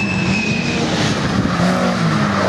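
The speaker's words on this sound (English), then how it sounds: "69 just coming through, David Johnston and Bruce Lindsay" Rally car at the Oulton Park Rally passing at speed, a loud sustained engine roar with tire noise filling the whole stretch, close and steady without talk.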